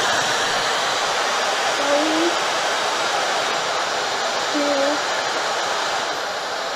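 A Dyson Supersonic hair dryer runs continuously with a loud, steady, breathy rush of air and a faint high whine, close by, with a brief voice murmuring underneath.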